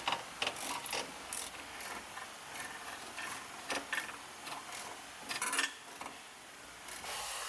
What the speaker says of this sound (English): We'll use the 5mm Allen key on the ratcheting wrench along with the 14mm wrench together to loosen the sway bar end link bolts